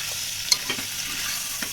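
Spices fry in hot oil in a home kitchen pan, a close, steady sizzle broken by a few sharp scraping clicks of stirring.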